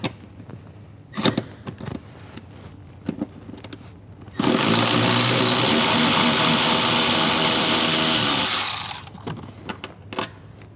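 A power tool runs in one loud sustained burst of about four seconds, removing 14mm seat bolts in a Toyota 4Runner, with quieter clicks and handling noises before and after.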